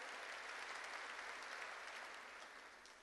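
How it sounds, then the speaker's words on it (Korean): A church congregation claps together during a sermon, a dense, even wash of applause heard from some distance, fading slightly toward the end. "박수 치라."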